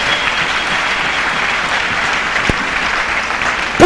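A church congregation applauds during a sermon, a dense, loud, sustained wash of clapping that holds steady from start to finish.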